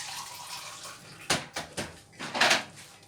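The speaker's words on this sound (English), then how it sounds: "Gonna be adding a little more water." Water poured into a pan of simmering curry sauce with turmeric and cucumber, heard as a few short splashy pours and trickles, close by and fairly quiet, with no speech.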